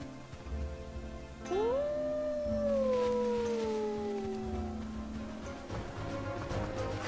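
A dog howls in a wooded video game scene: one long, rising-then-falling wail, fairly close and loud, over a steady low ambient drone, with no talking.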